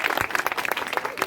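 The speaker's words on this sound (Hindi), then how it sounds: "शाबाश, इनके लिए तालियां" Brief, dense applause breaks out from an audience of mothers, sisters and others gathered at an Ambedkar school event after a show of raised hands.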